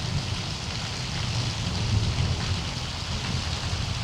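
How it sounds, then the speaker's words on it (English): Steady, dense rain pours during a storm with flash floods and tornado warnings, heard on a motorcycle ride, with low thunder rumbling continuously underneath; no one speaks. "Hope you can hear that thunder."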